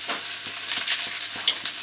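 Chopped garlic and ginger sizzling in hot oil left from frying paneer, a steady close crackle with light stirring scrapes, brief and without talk.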